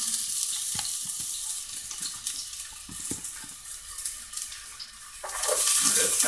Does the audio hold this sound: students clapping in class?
no